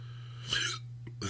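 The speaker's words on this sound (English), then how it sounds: "hiccups, obviously." A person hiccups twice after eating very hot chocolate, two short sharp vocal bursts close to the mic with a brief pause between them, over a steady low background hum.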